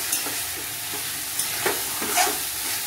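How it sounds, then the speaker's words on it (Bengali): Banana flower curry with chili being stir-fried in a pan, soft sizzling broken by several scraping stirs of a spatula, close and fairly quiet, with no talking. "কষিয়ে নিই একটু"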